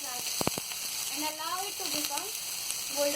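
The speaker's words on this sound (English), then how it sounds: "Now in this we will add chopped onion and allow it to become golden" Chopped onion frying in a pan for a pasta dish gives a steady, moderate sizzle and crackle while a person talks over it.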